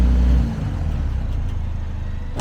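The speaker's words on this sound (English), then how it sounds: "I don't know if you guys can see that back tire spinning" Off-road vehicle's back tire spinning on the 7 Mile Rim trail in Moab, Utah: a heavy low engine rumble that drops after a brief loud surge, then a steady churning drone, ending in a sharp burst.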